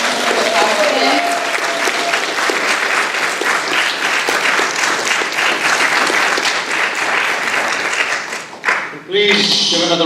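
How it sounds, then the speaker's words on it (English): A school event audience gives sustained applause at the close, a dense, loud roll of clapping that holds steady for most of the time, then drops off near the end as a voice begins speaking. "Can we get another round of applause for everyone who talked today?"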